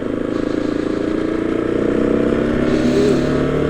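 A racing-style motorcycle engine runs steadily on the streets of Cyprus, a loud, close, continuous droning hum with a slight rise in revs toward the end.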